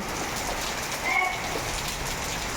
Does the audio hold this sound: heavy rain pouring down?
yes